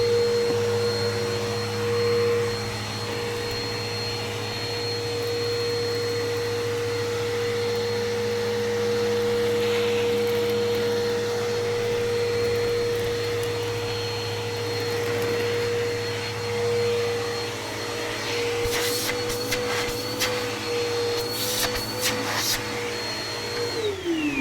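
A navy blue Bissell Power Force Helix upright vacuum cleaner with a dirty filter runs steadily with a loud, constant motor drone and a high whine, with a few brief clattering bursts toward the end.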